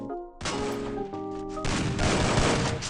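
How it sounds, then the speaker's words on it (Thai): Dense in-game gunfire in the Free Fire battle royale: rapid overlapping shots and bursts, loud and continuous like a fusillade, with a brief quieter gap near the start and no talk over it. "แล้วนี่มันยิงอะไรของมันเนี่ยหนวกหูเนี่ย"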